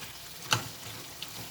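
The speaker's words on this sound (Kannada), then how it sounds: "ನಾವು ಟೊಮ್ಯಾಟೊ, ಬೀನ್ಸ್, ಕ್ಯಾರೆಟ್ ಹಾಕ್ಬಿಟ್ಟು ಫ್ರೈ ಮಾಡ್ಕೊಳ್ಳೋಣ" Tomato, beans and carrot fry in a pan with a hissing sizzle and one sharp clink of a utensil early on; no one talks.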